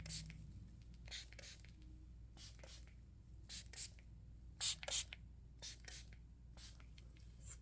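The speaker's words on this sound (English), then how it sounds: "Spray." A spray bottle gives several short hissing pumps, some close and louder, spaced irregularly with brief gaps between bursts.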